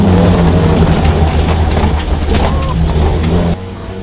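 A Chevrolet ZR2 pickup on Super Springs International suspension drives a test pass, a loud close engine drone with road rumble holding steady before dropping abruptly near the end.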